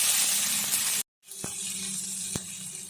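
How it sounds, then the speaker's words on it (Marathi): Curry leaves, sliced onion and green chili pieces sizzle in hot oil in a pan for Kolhapuri misal, a close, bright hiss that cuts out briefly, then resumes more quietly with a couple of sharp clinks. "कढीपत्ता घालूया कांदा एक घालूया उभं चिरून ठेवलेला हिरव्या मिरचीचे तुकडे घालू परतून घेऊ"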